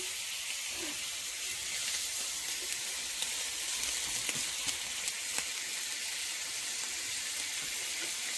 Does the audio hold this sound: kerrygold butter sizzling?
yes